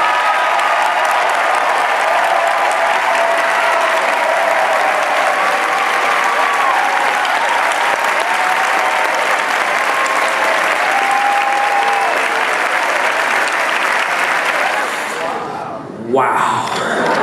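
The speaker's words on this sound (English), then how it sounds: "will our nominees please stand so we can give all of you a round of applause" A theater awards audience at the Helen Hayes Awards breaks into loud, sustained applause for standing nominees, a dense roar of clapping that carries for about fifteen seconds before cutting off.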